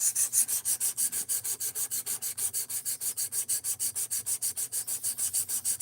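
A D2 steel knife blade is stroked rapidly and evenly across a sharpening stone, dozens of quick scraping passes in a steady back-and-forth rhythm, close and alone.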